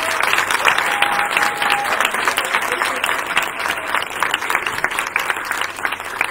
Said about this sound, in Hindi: मैं चाहती हूं कि आप सब अपने लिए भरपूर तालियां बजाइए।